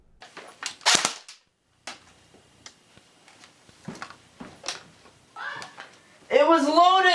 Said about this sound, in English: It was loaded, and I shot at my computer screen.